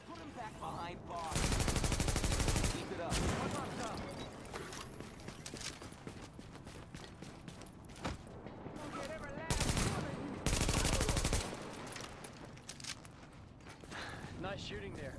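Gunfire in The Division on PC, loud bursts of automatic fire in two clusters over ongoing talk, with scattered single shots and movement noise between.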